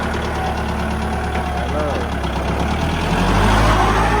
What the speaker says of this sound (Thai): สตาร์ทเราลองขับดูครับง่ายครับ